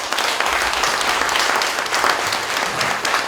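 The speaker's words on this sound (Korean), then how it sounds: "다시 한번 뜨거운 감사의 박수 부탁드립니다." Sustained, dense applause from a crowded audience at a Korean Democratic Party leadership convention rally in Gyeongbuk, following candidate Lee Nak-yon's speech, steady and loud throughout with no talk over it.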